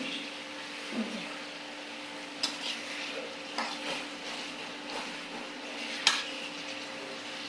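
Scattered clanks and scrapes of a wok shifting on an electric stove while chicken curry is stirred, with a low steady hum and faint sizzle underneath.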